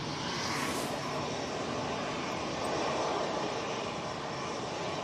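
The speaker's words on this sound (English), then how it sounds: "Amsterdam flight's about to go." A jet departing Manchester Airport for Amsterdam on a windy day thunders in a steady, broad engine roar that swells slightly midway, with a brief hiss near the start.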